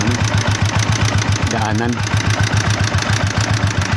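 A Yamaha Sniper 150 motorcycle engine idling roughly with a rapid, regular ticking clatter, running low on oil, close and loud, with a brief spoken word over it midway.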